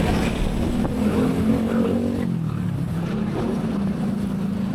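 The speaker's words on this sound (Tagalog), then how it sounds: "Medyo mabibilis lang dito mga motor kasi maluwag yung daan." Motorcycles speeding along an open road toward Metro Manila, a continuous engine drone that swells and shifts pitch as vehicles pass close by, with no voices.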